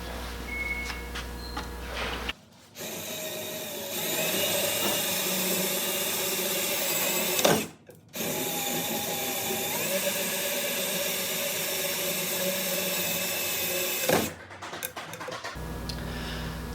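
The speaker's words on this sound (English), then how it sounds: "Alright, and now we can just finish drilling out the bottom hole." A power drill bores out a hole in a boat deck for a vented deck fill, running in three long loud whirring bursts separated by brief pauses, close and alone.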